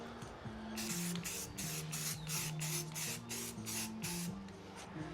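Primer sprayed onto a HasLab Proton Pack in repeated aerosol bursts, each hiss lasting under a second with short gaps, close and steady, with faint tonal background music underneath.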